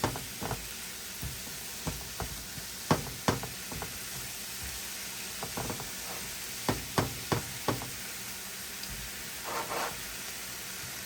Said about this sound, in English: And then you just want to mix that, all those ingredients in there, those spices get in there well.